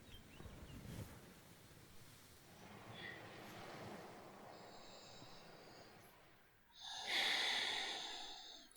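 Slow, deep breathing with soft airy inhales and exhales, faint and close, followed by a louder, longer exhale near the end against a quiet background.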